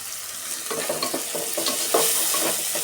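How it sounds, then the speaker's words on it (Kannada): Spices with turmeric frying in a pan for a potato sagu, a soft steady sizzle with a ladle scraping through in several short strokes, close and moderate. "ಅರಿಶಿನ ಸೇರಿಸಿ ಈ ಥರ ಫ್ರೈ ಮಾಡಿಕೊಂಡು"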